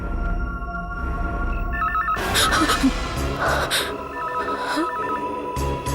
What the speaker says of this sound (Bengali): ফোন এখানে কি করে বাজছে?